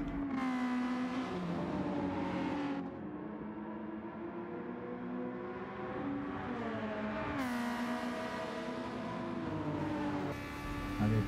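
A Daihatsu Copen kei car races in Gran Turismo 7, its small engine holding a steady, high-pitched whine that climbs and drops with gear shifts, loud and continuous throughout.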